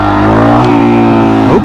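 A motorcycle engine revs hard and sustained in first gear during a wheelie, a loud, close, steady drone that dips in pitch at the end, with no voices.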